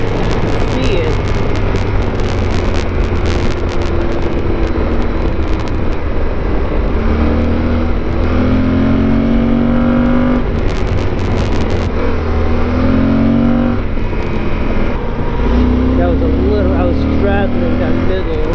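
A motorcycle speeding along a hidden rural Virginia road, its engine droning loud and close under constant wind roar, with a rising and falling pitch as it accelerates and shifts; a rider talks over it.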